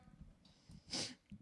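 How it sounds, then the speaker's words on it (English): A single sharp, forceful nasal blast, like someone blowing their nose, bursting out briefly against a quiet background with faint breathy sounds around it. "are you guys not gonna hear me blow my nose?"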